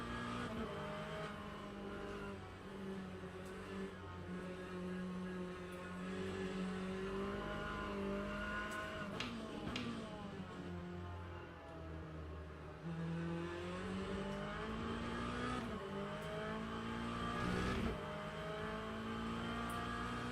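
A Corvette race car engine in the sim game Le Mans Ultimate drones steadily throughout, its pitch rising and falling through gear changes and revs with tire noise beneath, at an even, loud level with no talk.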